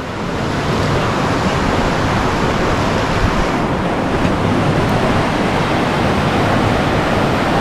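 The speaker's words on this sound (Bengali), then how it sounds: "কি সুন্দর সমুদ্র দেখ" Sea waves roll onto Oceana beach at Digha in a loud, continuous surf roar, broad and steady with faint wind buffeting, no voices heard.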